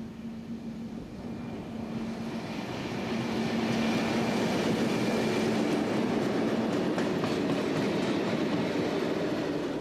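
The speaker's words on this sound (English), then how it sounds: "train is hauled by a Class 51 diesel-electric" A freight train hauled by a Class 51 diesel-electric locomotive rumbles past with a steady rolling roar and faint clickety-clack of wheels, growing louder after the first few seconds and holding close.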